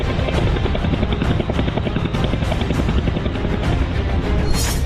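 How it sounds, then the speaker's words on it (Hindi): Helicopters hover overhead over wartime Mariupol, Ukraine, a dense, continuous rotor roar with a steady chopping pulse, loud and unbroken throughout. "गिद्ध जैसे मंडराते हेलीकॉप्टर"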